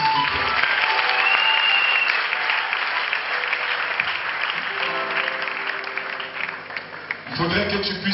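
A church congregation applauding steadily and loudly throughout, with a voice speaking over the clapping near the end.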